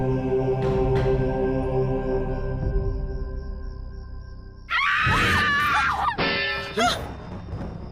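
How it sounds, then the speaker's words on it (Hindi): A scream rings out in a dark house during a TV serial scene: a sudden loud, shrill female scream with wailing overtones, following a low rumbling ambience and sustained tones, no speech. "किसी की चीख की आवाज आई।"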